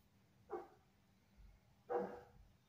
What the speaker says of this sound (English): That's my beautiful dog.